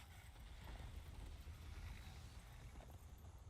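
Horse hooves clip-clopping while riding in the Darksiders video game, a steady, fairly quiet patter of hoofbeats over a low rumbling bed of game ambience, running continuously for about three seconds.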